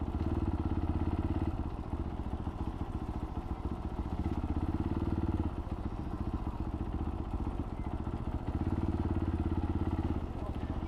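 A motorbike engine runs close by on a hot day near St Ives, idling in an even mechanical throb that swells louder for a few seconds, then eases, then swells again.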